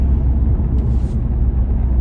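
A Seat car rumbles by outdoors, its low engine and road noise steady and loud throughout, with no talking.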